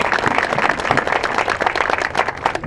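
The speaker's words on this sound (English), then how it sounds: "people can give you a round of applause for your hard work" Audience at an Out of the Darkness community walk breaks into dense, steady applause, many hands clapping together close by.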